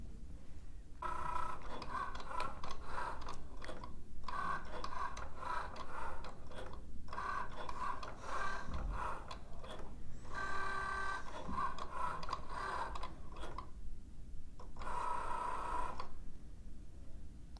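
A Cricut Joy machine cuts a vinyl decal with a faint, repetitive whirring and ticking of the motor, running in short bursts separated by brief pauses.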